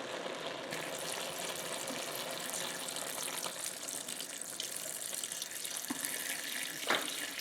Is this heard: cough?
no